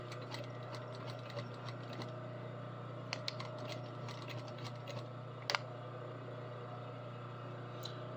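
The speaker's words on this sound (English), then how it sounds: "Run another row of stitching down there, and then back and across." A sewing machine runs a row of stitching, its steady close mechanical hum carrying a fast rattling tick throughout, with a couple of brief clacks along the way.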